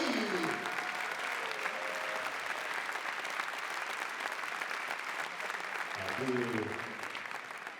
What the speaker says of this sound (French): Applaudissements du public, chaleureux